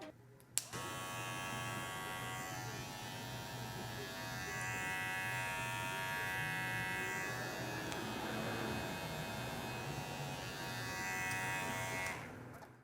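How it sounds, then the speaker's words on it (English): A Fade King budget hair clipper switches on with a click and runs in a steady, fairly quiet electric buzz with a faint whine, holding a constant level until it cuts off at the end. "Now, as far as the sound of these clippers, they're very quiet, which I really like."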